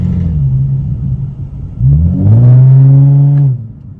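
A Nissan 370Z's dual catback exhaust idles with a deep rumble, then revs up sharply into a loud, throaty roar that holds briefly before dropping back.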